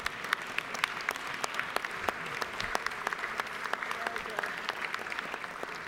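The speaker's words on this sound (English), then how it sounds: "join with me in recognizing and appreciating and applauding the students" An audience claps steadily in the Georgia House of Representatives chamber, a sustained patter of applause for students with distinct individual claps standing out.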